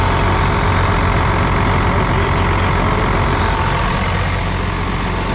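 12-valve diesel truck engine running at a steady idle after starting, a loud, constant low rumble with an even clatter, close by and unchanging throughout.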